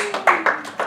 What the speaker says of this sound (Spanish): Dile un fuerte aplauso al Señor